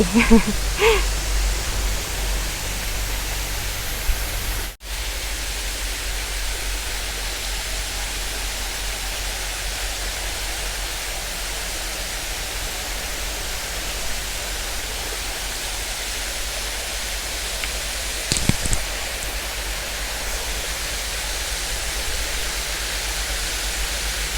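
A waterfall rushes nearby at a café in Doi Saket, a steady broadband hiss of falling water continuing throughout at moderate level, with no talk.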